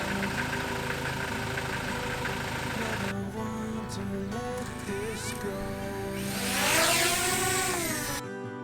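A camper van's engine hums steadily while driving a rural road through a valley on Ireland's Wild Atlantic Way, a close, continuous drone with a tonal swell near the end and no talk.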